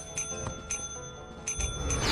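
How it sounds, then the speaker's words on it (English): In a multiplayer horror game, a small bell rings several times with bright, clear tones spaced a little apart. The sound is moderately quiet and has faint background noise under it, with no talking. "I'm ringing a bell."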